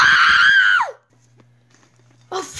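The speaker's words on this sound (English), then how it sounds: "did you hear that screaming?" A person screams loudly and sustained for almost a second with a falling pitch at the end, followed by near-silence with a low hum before another loud vocal burst begins.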